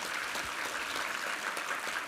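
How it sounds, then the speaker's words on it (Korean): A Sunday church congregation applauds in a steady, even wash of clapping that sounds fairly distant and soft, with no voices over it. "우리 하나님께 감사와 영광의 박수 올려드리겠습니다"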